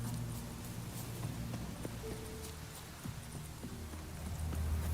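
Hooves of the horse Roach clip-clopping at a steady trot in the video game The Witcher 3, rhythmic and fairly close under a low, continuous game ambience.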